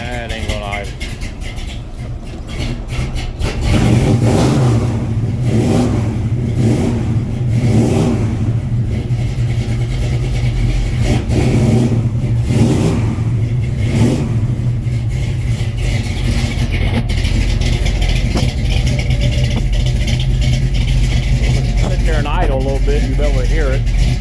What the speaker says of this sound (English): Anyway, that's a cold start.